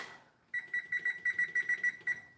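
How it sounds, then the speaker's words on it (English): A kitchen timer beeps about ten times in quick, evenly spaced bursts, clear and close, with no talk over it. "I set a timer so I don't forget."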